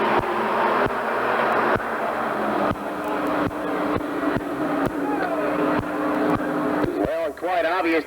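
Stock race cars roar around a short oval track under a green flag, engines droning loudly and continuously with repeated pass-by surges. A commentator talks over the engines throughout.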